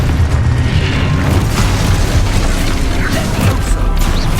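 Expulso spell explosion in Hogwarts Legacy, a loud, dense rumbling blast with crashing debris and mechanical clatter filling the whole stretch.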